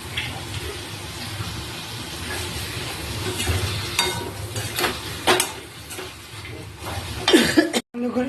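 Cabbage, prawns and potatoes with spices being sautéed in a pan, a steady moist sizzle with occasional stirring scrapes and clatters throughout, close and moderately loud, with a brief sharp clank near the end.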